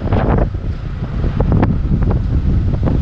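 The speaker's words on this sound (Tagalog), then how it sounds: "Lakas yung hangin." Strong wind blasting into a microphone aboard a boat, loud low-frequency buffeting in uneven gusts throughout, close and continuous.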